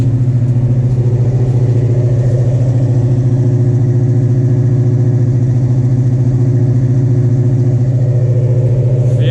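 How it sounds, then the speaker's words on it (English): A Chevrolet C10 pickup truck engine, freshly rebuilt after blowing up, idles loud and close, a steady deep rumble with a regular throb that continues unchanged throughout. "So the truck is running"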